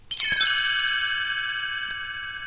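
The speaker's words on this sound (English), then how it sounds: "You will know it is time to turn the page when you hear the chimes ring like this." A single bright chime rings out and its shimmering tones sustain, slowly fading over a couple of seconds.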